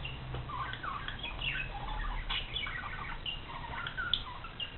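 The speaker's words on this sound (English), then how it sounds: "Oh, sing it, baby bird." A pet budgie sings in a busy, continuous warble of chirps and squeaky notes, close and moderately loud over a low background hum in a home setting.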